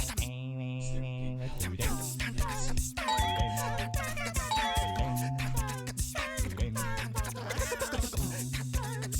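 A two-tone electronic doorbell chime rings twice amid busy game music and effects.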